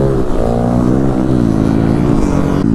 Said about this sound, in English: Oh, somebody's doing a roll and burnout.